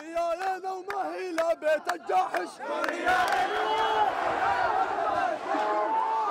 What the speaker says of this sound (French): La foule crie sa colère contre le pouvoir libanais qu'elle estime à la solde du régime syrien